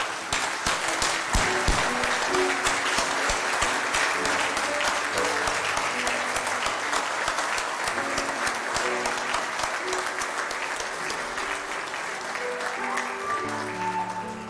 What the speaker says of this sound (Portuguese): eu convido você junto comigo a darmos uma salva de palmas para o Senhor